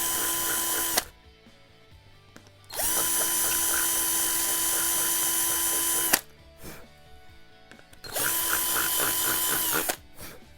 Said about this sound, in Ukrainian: Просто беремо шуруповерт. Ось так. Розсверлюємо.